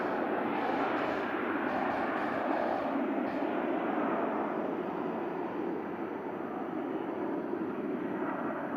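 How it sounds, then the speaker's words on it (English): Jet2 airliners roll out along the runway at Manchester Airport, a distant, steady engine roar and broad rushing hiss that holds for several seconds and eases slightly toward the end. "What a crazy backdrop to these planes rolling out on the runway."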